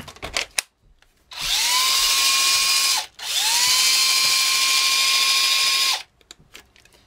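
Cordless drill powered by a repaired NiCd battery whirs up to speed in two steady bursts of a few seconds each, with a brief stop between, loud and close, winding down after each run.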